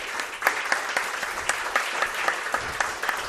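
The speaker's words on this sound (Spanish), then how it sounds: "pido un aplauso para él" Steady audience applause in a television studio, dense clapping from many hands sustained throughout at moderate loudness with no talk over it.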